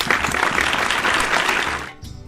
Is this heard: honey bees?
no